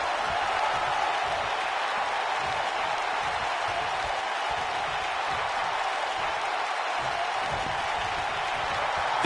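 Steady crowd roar and applause fill a capacity arena in the WWE 2K19 wrestling video game, a continuous dense wash of cheering with no clear breaks.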